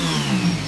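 Homemade drone motors and propellers spinning inside a resonating box produce a steady, car-like engine drone with a high whine on top, loud and close, in a brief continuous burst.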